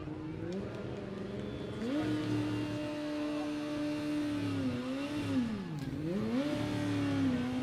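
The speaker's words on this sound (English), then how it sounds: "Here comes the Formula One car." A parade vehicle styled as a Formula One car at the South Dakota State Hobo Day parade revs its engine in rising and falling sweeps, a buzzing drone heard from moderate distance amid crowd ambience.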